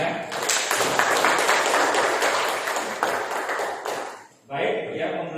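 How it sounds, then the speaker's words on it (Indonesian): Classroom applause for two students, Risma and Ronaldo, a burst of clapping from a class of pupils lasting about four seconds before a short pause, then a softer patter of a few hands. "Kasih tepuk tangan dulu untuk mereka berdua, ya."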